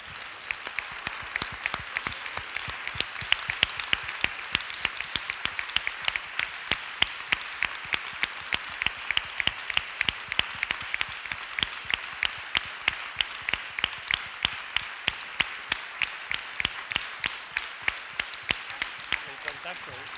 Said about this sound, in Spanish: daros un aplauso